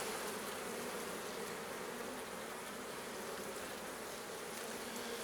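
Honeybees buzz around the frames of an open Layens hive, a dense, continuous high-pitched hum close to the microphone with no pauses or talk.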